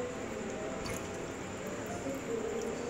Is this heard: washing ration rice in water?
yes